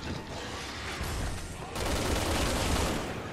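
Dense, loud gunfire and mechanical clatter from the co-op shooter video game Resident Evil 6, with sniper rifle shots buried in continuous action noise that jumps louder partway through; no speech.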